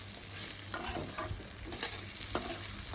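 Dried pork fries lightly in a pan, a soft continuous sizzle with occasional stirring scrapes, fairly quiet and steady with no talking.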